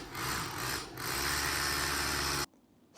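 Power drill boring holes for a safety pool cover, a loud close grinding whir with a brief dip before cutting out abruptly near the end.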